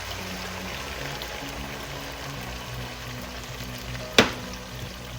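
Garlic butter shrimp sizzling in a pan as a splash of sherry wine is added, a continuous close frying hiss with low bubbling, broken near the end by one sharp, brief burst as the liquid hits the hot pan.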